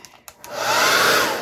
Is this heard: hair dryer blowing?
yes